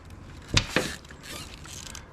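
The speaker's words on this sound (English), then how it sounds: "we're gonna take this pin, we're gonna slide it right through the axle here" A metal pin slid through an RC car axle in a tight fit, two quick close clicks of small mechanical parts followed by faint handling noise.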